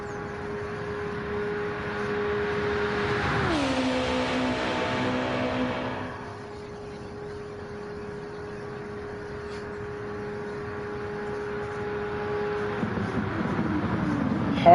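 A race car drones at a steady high pitch down the Mulsanne straight at Le Mans, with a sharp pitch drop as it shifts gear, then holds a sustained tone before another car approaches.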